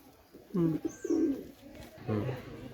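Pakistani teddy pigeons coo softly nearby in three short, throaty bursts over faint background noise.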